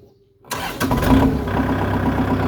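A 2012 Kubota L4708DT tractor engine starts after a short quiet lead-in, catching at once and settling into a steady, loud diesel idle close by.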